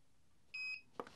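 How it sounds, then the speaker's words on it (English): A single short electronic beep from a Record Power Coronet Herald wood lathe confirming reverse mode, fairly quiet, followed by a soft click in an otherwise silent room. "it beeps to confirm that it's now in reverse mode"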